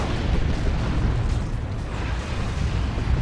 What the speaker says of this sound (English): No, it's a rocket run.